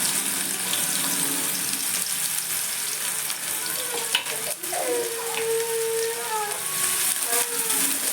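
Finely chopped onion frying in a pan for an Agri-style goat mutton curry, a steady close hiss of sizzling oil with occasional stirring scrapes, no talk.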